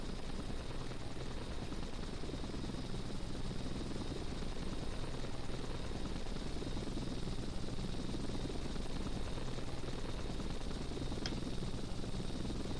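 Helicopter engine and rotor in a flight video game, a steady, unbroken drone that stays constant as the aircraft flies toward a helipad.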